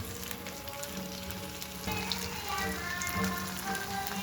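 Slices of potato and eggplant fry in hot oil with a steady, close crackling sizzle and faint pops, continuous and moderately quiet throughout.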